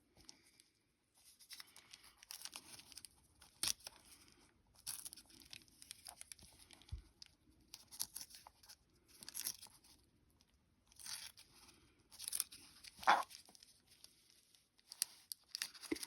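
Paper is torn and picked away from embroidered fabric after a thread design transfer, giving soft intermittent crinkling, tearing and scratching bursts close by and fairly quiet, with pauses between and no talk.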